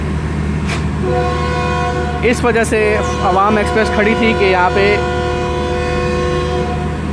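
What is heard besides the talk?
Awam Express train departure horn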